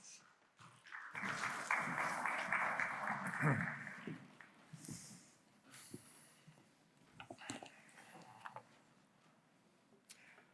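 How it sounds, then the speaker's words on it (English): An audience at a luxury hotel industry conference applauds a panel of speakers, a broad burst of clapping that swells for a few seconds, then thins to scattered claps and room noise. "Please give them a round of applause."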